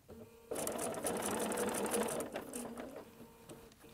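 Sewing machine stitching fabric for a zipperless case, a fast steady mechanical whir starting abruptly and running close and loud, then easing slightly as the fabric is turned.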